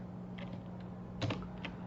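A few computer keyboard keys are pressed for a shortcut (Alt or Option plus right square bracket) in After Effects, giving sparse soft clicks with a slightly louder double tap in the middle, close and quiet, with no speech.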